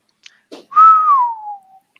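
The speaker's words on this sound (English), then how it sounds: "That's a good whistle." A person whistles a single long, clear note that slides slowly downward after a couple of short breathy attempts, loud and close with no talking.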